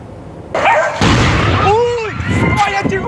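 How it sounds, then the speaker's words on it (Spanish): Burning public transport bus exploding in a northwest Guayaquil neighbourhood: a sudden loud blast that keeps roaring on, with dogs barking and people shouting in alarm close by. "Son los instantes de la explosión que causó alarma entre los habitantes del bloque 2 de la cooperativa Valerio Estacio"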